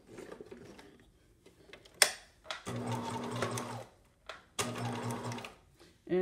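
A sewing machine stitches a cushion fabric seam in short bursts of fast mechanical whirring, separated by pauses and small handling clicks, heard close up.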